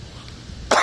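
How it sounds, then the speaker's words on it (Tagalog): A cat gives a single short, sharp cough that bursts out at the very end after a quiet moment. "May ubo tayo mga boss, may ubo."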